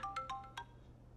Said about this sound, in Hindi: फलक की सास कॉल कर रही है